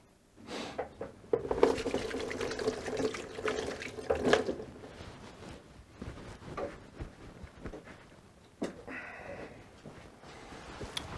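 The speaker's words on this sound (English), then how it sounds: "Let me wash my hands" A kitchen tap runs while hands are washed beneath it, giving a close, steady splashing water stream with bursts and clatter, fading toward the end with a few drips and small knocks.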